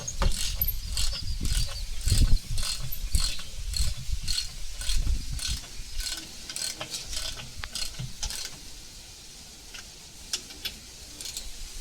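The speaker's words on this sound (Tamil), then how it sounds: "ஒரு டயர் எடுத்து மாட்டி நம்ம மாப்பிள்ளை டைட் வச்சுட்டு இருக்கிறாரு" A wrench clicks and ratchets in repeated bursts while tightening the wheel nuts on a Swaraj 744 FE tractor's front tyre, close and fairly loud over a low background rumble.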